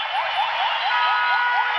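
An ambulance siren wails on the road in a fast, repeating up-and-down cycle, loud and steady for the whole stretch, with no voices over it.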